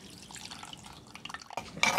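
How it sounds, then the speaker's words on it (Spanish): A little water poured into a chile and garlic salsa: soft drips and trickles, then a brief, brighter splash of liquid at the end, close and fairly quiet. "agregamos un poquito de agua."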